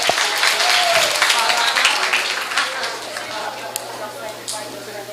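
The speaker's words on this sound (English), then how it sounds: "Can I give him a big round of applause" Audience applause at a multistakeholder forum on a World Bank report, greeting the committee chairperson; a dense, steady burst of many hands clapping close by, thinning slightly toward the end, with voices talking faintly underneath.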